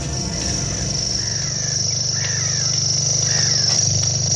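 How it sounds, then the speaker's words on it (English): A grasshopper warbler's high, continuous mechanical reeling trill runs unbroken like an insect, with faint bird chirps and a low hum in the background. "that's the grasshopper warbler"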